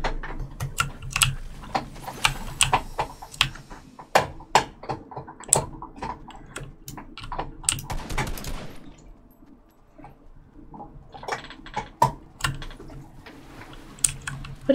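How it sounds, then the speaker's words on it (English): Computer keyboard typing during a video game session, with rapid bursts of sharp clacking keystrokes, close and loud, pausing briefly in the middle before resuming, with no speech. "Can you guys hear my keyboard pretty bad?"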